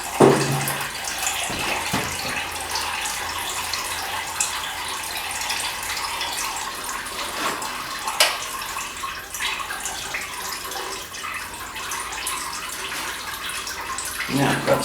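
Residual coolant draining from behind the water pump of a Ford 800 tractor engine during a cylinder head teardown, a steady trickling water sound running throughout at close range with light handling noises.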